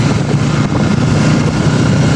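Steady loud engine drone of motorbikes and vehicles on a street near a home by First Chowk, Kathmandu, a continuous rumble with no clear gaps or voices.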